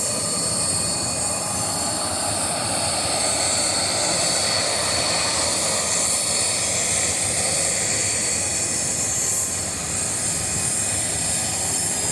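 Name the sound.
airplane engine running at the plane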